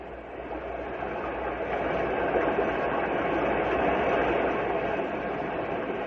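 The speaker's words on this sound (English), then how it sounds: "This is the sound of a swollen river." A broad, steady rushing roar of a river swollen with spring thaw, dense and continuous with no pauses, fairly loud and constant throughout.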